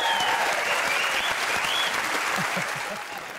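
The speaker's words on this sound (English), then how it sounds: "Thank you for the round of applause." Loud audience applause and cheering for a comedian at a television comedy show, a thick roar of clapping that holds steady and then begins to ease off, with a voice heard briefly over it.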